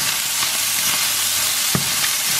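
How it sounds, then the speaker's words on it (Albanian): Pieces of meat sizzle and crackle in a hot frying pan, a steady close hiss with a few sharper pops, and no voices over it. "E skuqim dhe kokrat e mishit."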